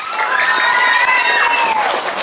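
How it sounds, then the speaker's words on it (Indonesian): An audience at a teacher-and-pupil event claps steadily, a bright, continuous patter of hands with some crowd noise and a voice rising over it. "Tepuk tangan dong."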